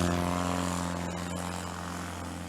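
A Husky A1B bush plane with an O-360 engine takes off at a STOL qualifying competition in Brainerd, Minnesota, its propeller engine a loud, steady droning roar that eases slightly as the aircraft climbs away.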